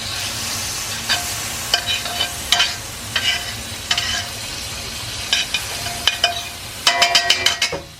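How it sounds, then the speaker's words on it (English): Shrimp fry in butter in an overloaded pan, a steady sizzle punctuated by rhythmic spatula scrapes and stirring bursts that cluster toward the end, close and alone without speech. "I have added butter to the pan and I am adding the shrimp."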